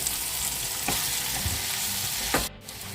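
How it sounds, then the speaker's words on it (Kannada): Chili powder, coriander powder and sambar powder fry in a pan as a steady sizzle with a couple of brief stirring scrapes, heard alone. "1 ಟೇಬಲ್ ಸ್ಪೂನ್ ಸಾಂಬಾರ್ ಪೌಡರ್. ಇಷ್ಟನ್ನು ಹಾಕಿ ಚೆನ್ನಾಗಿ ಹುರ್ಕೊಳ್ಳೋಣ"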